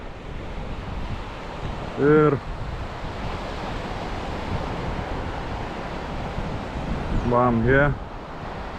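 Steady wind buffeting the microphone on a seashore, a continuous broadband roar with surf underneath, broken twice by brief bursts of a man's speech.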